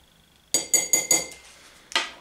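A metal spoon scoops Irish cream instant coffee powder and clinks sharply against a cup or jar, with three quick bright taps, a brief scrape, then one more clink after a short pause.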